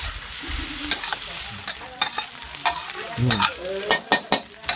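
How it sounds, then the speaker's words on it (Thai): Squid eggs and bean sprouts sizzle in a pan while being stir-fried, with a constant frying hiss broken by sharp clanks and scrapes of the utensil against the metal, close and loud. "เราจะผัดเหมือน ออส่วน แต่ว่าเราใช้ไข่หมึกแทน"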